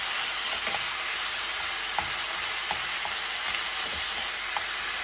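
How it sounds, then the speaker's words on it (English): Minced meat for a Bolognese sauce sizzles steadily in a hot pan, with a utensil stirring and scraping at irregular moments; close, continuous frying hiss with no talk. "You keep stirring your meat and breaking it up as you go."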